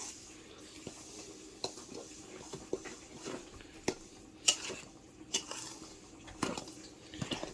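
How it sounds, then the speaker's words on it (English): Dry ingredients for zucchini bread being mixed in a bowl, giving faint, scattered clinks and light scrapes of a utensil against the bowl at an irregular pace. "we're going to get all our dries mixed in here nice and easy"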